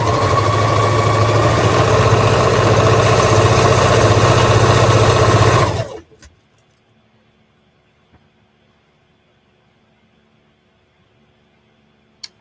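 A sewing machine stitching a Lolita-style headpiece runs with a loud, continuous hum for about six seconds, then stops abruptly, leaving near silence with a faint tap at the end.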